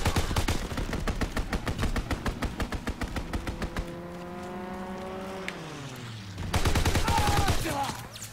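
Rapid bursts of gunfire in a Call of Duty WW2 gunfight, loud and close, a dense rattling volley that breaks off, a descending engine-like drone from a strafing fighter plane, then another heavy burst of shots near the end.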